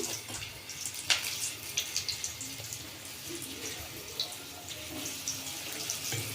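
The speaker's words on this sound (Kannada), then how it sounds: "ನಾನು ಈ ಹಿಟ್ಟಲ್ಲಿ ಅದನ್ನು ಡಿಪ್ ಮಾಡಿ ಎಣ್ಣೆಗೆ ಹಾಕ್ತಾಯಿದ್ದೀನಿ" Batter-dipped chicken popcorn goes into hot oil with a steady close sizzle and hiss, rising in small crackling bursts as pieces are added.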